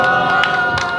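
An audience at a street busking show on Sinchon's car-free street cheers and claps, a loud, close burst of shouting voices and scattered applause.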